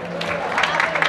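A church congregation applauds steadily through a sermon, a dense, continuous patter of many hands, with a sustained tone and voices running underneath.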